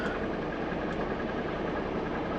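A truck's engine idles after a cool-down, giving a steady, close, even rumble that holds without change and has no talk over it.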